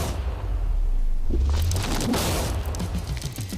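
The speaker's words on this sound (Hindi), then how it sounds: "इस धमाके ने सच में मुझे डरा दिया।" A heavy TNT explosion booms with a deep low rumble, then a spray of crackling debris and scattered thuds as it dies down.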